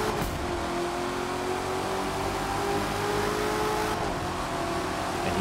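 A supercharged C8 Corvette in The Crew 2 accelerates hard, its engine droning loud and steady with a rising whine throughout, close and continuous with no voices.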